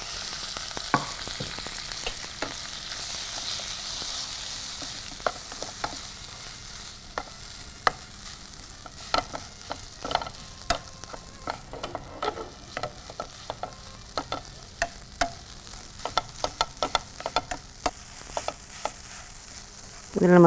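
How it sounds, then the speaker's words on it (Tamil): Mustard seeds, asafoetida, curry leaves and a ground moong dal mixture frying in hot oil, a steady close sizzle with scattered sharp pops and crackles throughout, no talking. "கடுகு, தீயை குறைச்சி வச்சுட்டு பெருங்காயம், கருவேப்பிலை, அதோட அரைச்சி வச்சுருக்க பாசிப்பருப்பு கலவை"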